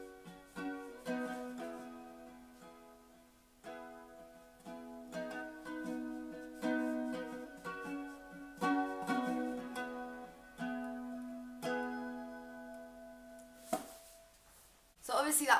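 A LAVA U ukulele played with full volume, full effect and full reverb, giving ringing plucked notes and strums that repeat in phrases across the passage, fairly quiet overall with a sharp knock near the end.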